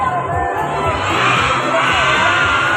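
A large crowd of children shouts loudly and continuously in unison, with cheering and whoops throughout, dense and close.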